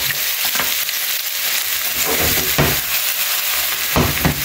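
Onions frying in a hot pan, a steady dense sizzle with a few brief stirring scrapes, close and loud with no talking.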